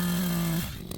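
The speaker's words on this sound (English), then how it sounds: "right now I'm using a bigger chainsaw. It's a Echo Timberwolf CS590." An Echo Timberwolf CS590 chainsaw runs at a steady loud drone for about half a second, then quickly drops away as the engine winds down.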